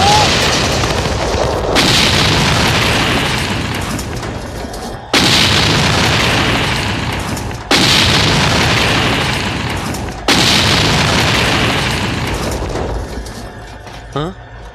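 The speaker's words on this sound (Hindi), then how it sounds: "अरे ये क्या, हमारी ही गाड़ियाँ उड़ गई?" Vehicles are blown up in a South Indian action movie: four loud, booming blasts come at intervals, each followed by a long roaring, crackling decay, ending with a short sharp sound.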